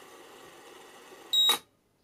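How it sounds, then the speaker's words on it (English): After a quiet hum, one short, loud electronic beep from a Scoopic 16M film camera's sync buzzer as recording stops, cutting off to near silence. "just before it stops I get another one"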